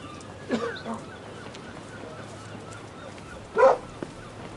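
A dog, called a mutt, gives two barks about three seconds apart, the second louder, over a steady background hum.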